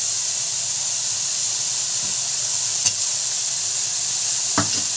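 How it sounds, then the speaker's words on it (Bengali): Banana flower frying in a pan for cutlets, a loud, even sizzle and hiss with a couple of brief stirring scrapes near the end and no talking. "প্রায় 6 থেকে 7 মিনিট মতন মোচাটাকে আমি ভালো করে ফ্রাই করে নিয়েছি।"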